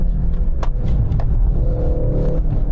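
Hybrid four-cylinder engine of a Mercedes-AMG C63 with 680 horsepower, a loud, steady low rumble from the car with a couple of sharp transient clicks and a brief rising tone partway through.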